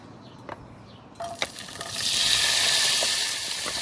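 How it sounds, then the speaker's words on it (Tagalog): Garlic and onion dropped into hot oil in a neglected old pan, a few clinks then a rising steady sizzle that holds loud and close. "Pag mainit na yung mantika sa napabayaan na kawali, lalagay na muna natin yung bawang tsaka sibuyas."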